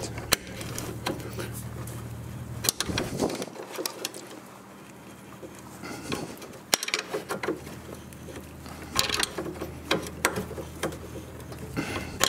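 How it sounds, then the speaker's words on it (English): Ratcheting wrench turning a seized strut nut on a 2007 Chevy Equinox right front suspension, with repeated sharp clicking bursts and metallic taps amid garage background noise, sometimes close and loud, sometimes in quieter stretches. "I'm using a ratcheting wrench so I can make more progress in a shorter time."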